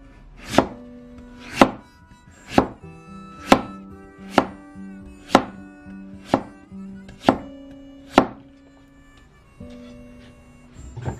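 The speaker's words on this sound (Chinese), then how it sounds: "切片的时候一定要摁住土豆片，摁住土豆片呢，大小厚度都要一样。" A kitchen knife slices potatoes on a cutting board with about ten crisp, evenly spaced chops, each ringing briefly against the board in a steady, unhurried rhythm, with no talking.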